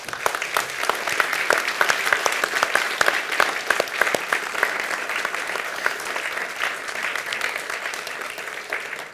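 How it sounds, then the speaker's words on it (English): An audience at a standards awards conference breaks into sustained applause, steady and dense from start to finish with no voices over it. "give them a round of applause too."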